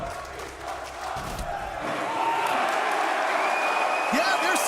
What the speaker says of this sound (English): yeah, they're saying Beastcoast sucks, but the crowd is staying in it